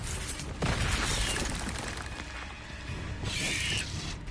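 The Confringo blasting spell goes off in Hogwarts Legacy: a loud burst with shattering, crackling debris, followed by a sustained rumble and a second bright flare of sparkling, hissing energy near the end.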